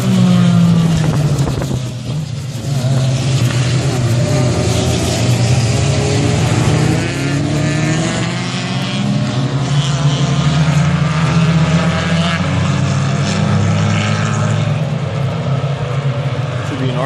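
SCCA race cars at Blackhawk roar and whine past with shifting pitch as a voice talks over the din, the motors loud and sustained.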